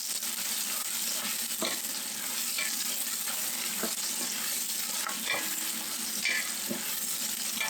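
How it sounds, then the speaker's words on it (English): Onions frying in a pot for Hungarian goulash give a steady, close, dense sizzle with occasional sharp stirring clicks and scrapes, no voices. "Then we add the onions. And fry a little bit."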